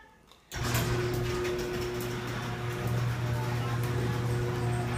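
A Craftsman garage door opener runs as the door opens: after a brief hush, a loud, steady mechanical motor drone with a low hum kicks in abruptly and continues without a break.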